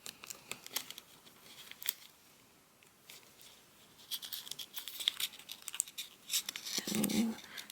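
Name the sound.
paper being folded for origami zebra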